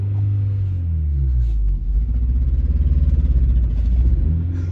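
Honda CR-V stuck on ice: a loud, low engine rumble holds steady, then turns into a rough, pulsing labouring drone as the engine revs and struggles, close and continuous with no talk.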